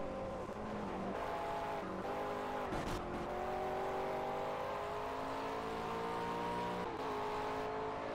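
A McLaren race car in the racing video game Project CARS, its engine holding a steady high drone with shifting pitch and a brief gear change, running continuously and loud with no talk.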